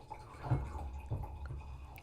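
Wine poured into a glass during a casual home Christmas get-together, a soft liquid trickle running steadily for about two seconds with a few small splashes, fairly quiet and close.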